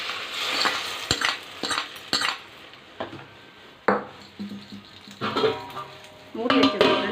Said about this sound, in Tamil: ஃப்ரெண்ட்ஸ், தாளிப்பு போட்டுக்கலாம்.